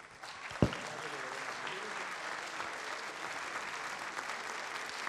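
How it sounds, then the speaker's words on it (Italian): Audience applause at a sports award ceremony in Venice, a sustained, even clapping of a crowd indoors with one sharp bump near the start, continuing steadily throughout. "intanto merita l'applauso eroico il presidente del CONI Bardelle"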